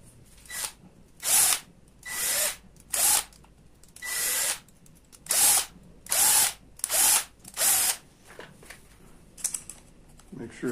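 A power tool drives down the bolts on a ring clamping an aluminum blank in a forming die for hot air engine cooling fins, firing about nine loud, close whirring bursts of roughly half a second in a regular rhythm.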